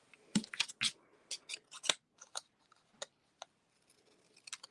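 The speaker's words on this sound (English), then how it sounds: "So I'm going to trim this part off right now." Paper being trimmed for a watercolour stamping card, heard as a series of quiet, close snips and short crisp scratches in uneven bursts, separated by near silence.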